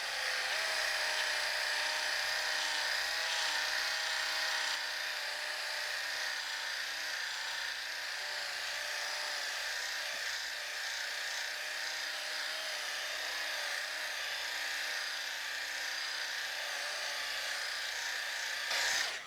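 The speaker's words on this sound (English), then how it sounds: "if you have an opportunity to burn the paint with a rotary polisher like this" Rotary polisher working polish into a scratch on car paint, a steady high whirring drone that runs continuously at even loudness throughout.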